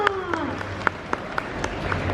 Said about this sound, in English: Round of applause for Yoda!